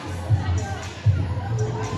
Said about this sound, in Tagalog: naririnig ko ang sigaw ng Apollo